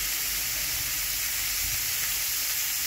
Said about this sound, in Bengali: ফুলকপিটাকে তেলের মধ্যে ভেজে নিচ্ছি